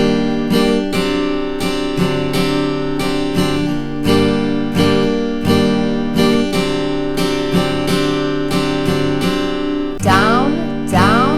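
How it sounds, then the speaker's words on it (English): Acoustic guitar strummed in a down-and-up rhythm, steady repeated chord strokes with accented downstrokes and a brief open flourish near the end, loud and alone. "now let's put the first half of that strumming pattern with the second half of the pattern"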